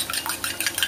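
A fork quickly beats a single egg in a bowl for beef fried rice, giving a rapid series of light, close clicking taps for under a second.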